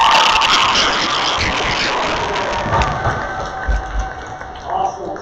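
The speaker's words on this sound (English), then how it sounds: "So can we give a round of applause for Coach Cromer?" A pep rally audience applauds and cheers for Coach Cromer in a dense, noisy burst that gradually thins out, with voices mixed into the crowd.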